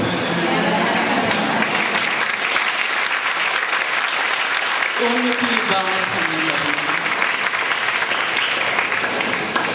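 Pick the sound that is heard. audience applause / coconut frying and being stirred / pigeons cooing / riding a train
audience applause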